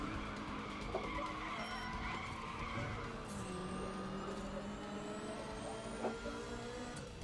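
Race car in Need for Speed The Run drifting through a Las Vegas corner, tyres squealing in a long sustained skid over a steady engine roar, with no voices.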